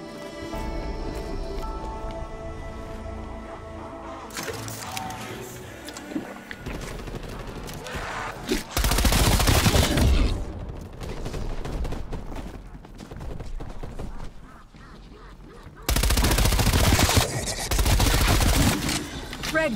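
Loud sustained automatic gunfire in Call of Duty: Black Ops Cold War Zombies, erupting in two long dense bursts after quieter game sounds, close and dominant.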